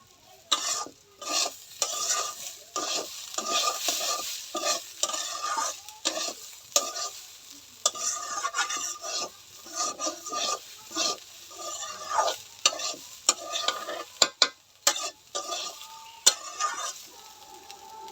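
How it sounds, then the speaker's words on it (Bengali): Chicken curry being stir-fried in a pan, with repeated scraping stirs of a spatula in an uneven rhythm over a soft, constant sizzle, close up. "তরকারিগুলো এরকম ভালো করে কষাই নিবে"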